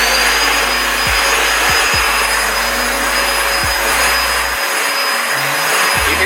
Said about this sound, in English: I can't believe I just got up to get a vacuum cleaner.